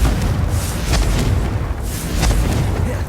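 A Confringo spell explosion in the video game Hogwarts Legacy: dense, booming bursts over a constant heavy rumble, loud and close, with no clear gaps between the blasts.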